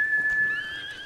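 A horse whinnies in the video game Ghost of Tsushima, one clear, fairly close neigh with a steady high tone that rises and wavers toward the end over soft background ambience.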